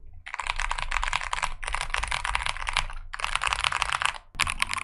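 Continuous bursts of fast typing on a DrunkDeer G75 mechanical keyboard, dense full-sounding clacks in several runs separated by brief pauses, close and clear with no voices.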